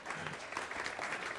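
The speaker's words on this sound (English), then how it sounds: "I should get an applause right now." An audience at a spiritual talk breaks into a short burst of applause, a dense, steady patter of many hands lasting about a second and a half with no voices on top.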